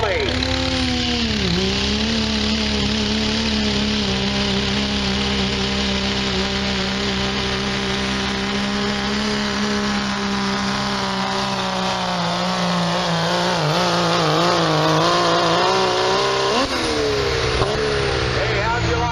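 A Dodge diesel pickup roars loudly down the track in a 2.6 diesel class truck pull at a county fair, its engine held at a steady high drone that shifts pitch near the end, with an announcer talking over it.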